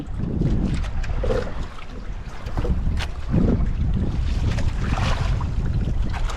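A ship rides a strong water current, with rushing, churning water and gusty wind buffeting the microphone in a continuous, fairly loud wash.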